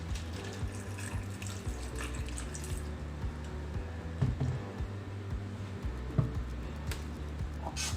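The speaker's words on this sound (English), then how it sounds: "Moisten the soil with 1 to 2 cups of water." Water poured into soil layers inside a plastic composting bottle, a steady running-water wash with low gurgles and a few louder splashy bursts, close and continuous throughout.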